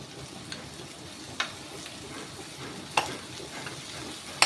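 Garlic and onion sautéing in a pan, a steady crackle with occasional sharper pops and stirring scrapes, no voices.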